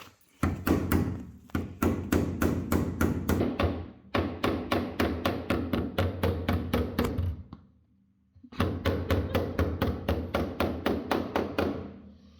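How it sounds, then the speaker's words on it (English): A body hammer taps against a dolly held behind a filled swage line on Volvo 240 trim, giving fast, even metallic knocks in three long runs split by short pauses. "you want to hold the dolly against there and press quite nice and firm"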